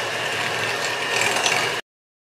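An egg beater whips eggs and sugar for a Christmas plum cake batter, a dense continuous whirring drone that runs steadily and then cuts off abruptly.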